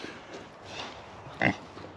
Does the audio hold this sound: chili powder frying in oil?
no